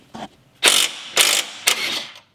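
Powered impact tool loosening a car suspension bolt on an FR-S, three loud close rattling bursts separated by short pauses, with a faint click before them and no talking.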